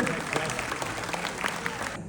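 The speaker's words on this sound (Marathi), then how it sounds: "मला वाटतं या गोष्टीसाठी जरा एकदा जोरदार टाळ्या झाल्या पाहिजे" Audience applause at a Marathi film promotion show, a sustained burst of clapping from a crowd with voices mixed in, cutting off abruptly at the end.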